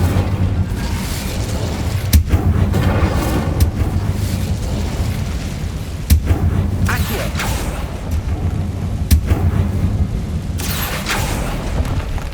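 Bombarda and Incendio spell blasts go off in a Hogwarts Legacy battle, a run of heavy booms and explosive bursts at irregular intervals over a dense, rumbling combat din, with shouted spell incantations amid the noise.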